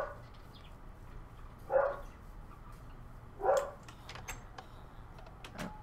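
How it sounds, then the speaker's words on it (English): A dog barks a few times in the background, spaced single barks at moderate distance over a quiet room hum. "my dog is driving me crazy"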